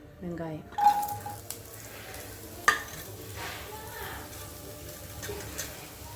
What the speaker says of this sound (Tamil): வெங்காயம் வதங்கட்டும் வெங்காயம் வதங்கிட்டு தக்காளி பழம் போட போகிறோம்